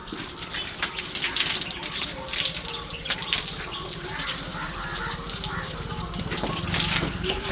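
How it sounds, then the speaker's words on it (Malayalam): Water splashes and pours while a cow is washed in a cattle shed, a steady close gushing wash running beneath a person talking throughout. "അപ്പോൾ പശുവിനെ കഴുകിക്കൊണ്ടിരിക്കുകയാണ്."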